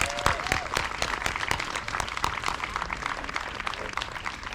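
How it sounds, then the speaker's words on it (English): Audience applause at a July 4th public reading of the Declaration of Independence, a dense, lively patter of many hands with a few whoops, steady throughout. "Another round of applause for all of our readers"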